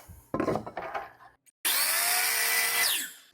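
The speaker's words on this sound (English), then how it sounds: "I'll turn my miter saw to 25 degrees and make each of these cuts." Miter saw set to 25 degrees cutting a miter in a wood piece: a short burst of handling noise, a brief pause, then a loud, close, sustained blade whine through the wood that falls away as the cut ends.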